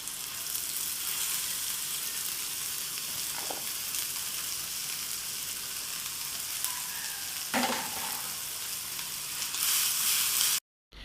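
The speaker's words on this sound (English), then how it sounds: "All you need to do here is just to keep stirring until the leaves become really tender" Ugu pumpkin leaves and prawns are stirred in a hot pan, a loud, continuous close sizzle broken by a couple of scraping strokes before cutting off abruptly.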